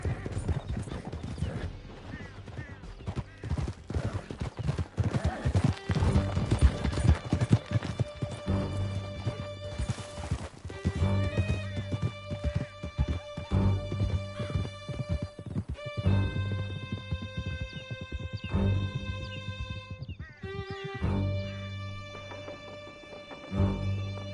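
Horses gallop hard in a Red Dead Redemption 2 chase through a canyon, rapid hoofbeats pounding close and loud with whinnies and game music swelling over them.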